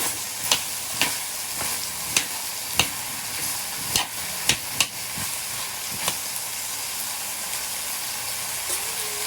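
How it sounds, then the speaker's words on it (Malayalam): Raw mango pickle being turned over with a spoon, a dozen crisp clicks and scrapes at irregular intervals over a soft, constant hiss, close but fairly quiet, no voices. "കുഴച്ചെടുക്കാൻ നല്ല സ്പൂണോടെ അടിമറിച്ചിടാം"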